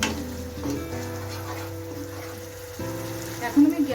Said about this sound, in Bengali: এই সবকটা উপকরণ একসাথে দিয়ে আমি মশলাটাকে একটু ভালো করে কষে নেব